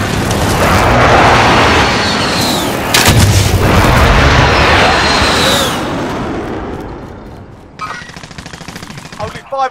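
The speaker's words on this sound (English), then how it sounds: "Be advised, friendly position airstrike" Loud airstrike explosions in a combat video game, with heavy booms and rumbling blasts filling the first several seconds, then fading into quieter gunfire and battlefield noise.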